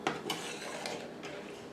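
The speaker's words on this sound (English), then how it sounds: "I've been stirring this for 5-6 minutes" Sausage milk gravy being stirred in a pan, a utensil scraping and clinking against the metal in a few light strokes over a steady low background hiss.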